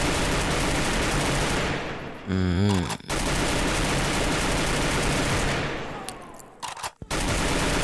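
Rapid automatic gunfire from the video game Free Fire crackles loudly and steadily, with brief gaps and a short sweeping tonal effect mid-burst before the firing resumes.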